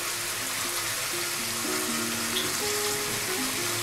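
Prawns fry in a coconut-milk masala, producing a dense, constant sizzle and hiss with a faint bubbling undertone. The sound stays even, close and unbroken across the short stretch, with no talk.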